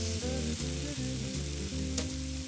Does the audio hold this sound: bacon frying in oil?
yes